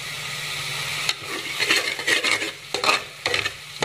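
Thick masala for chicken curry sizzles in released oil while a spoon stirs it through the pan in a few scraping bursts, steady frying hiss underneath, close and fairly loud.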